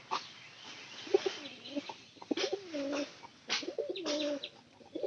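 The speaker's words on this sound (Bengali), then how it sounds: "আর সবটি খড়ের ভিতরে কম বেশি কবুতর থাকতেছে।" Pigeons cooing inside a loft of nesting boxes, several low warbling coos rising and falling in repeated bouts, fairly close, over a soft background hiss.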